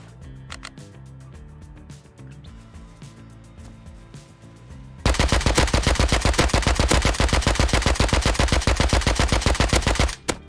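Rapid automatic gunfire from a Rust firefight rattles off in a long, loud, evenly spaced burst lasting about five seconds, after quieter background game sounds and a few scattered shots.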